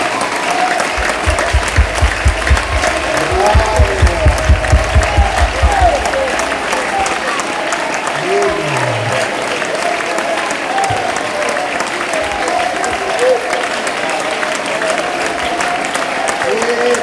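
A church congregation applauds and cheers at a Wednesday worship service, a dense, steady wash of clapping and crowd noise that fills the room, with stronger rhythmic clapping early on before it settles into a continuous roar.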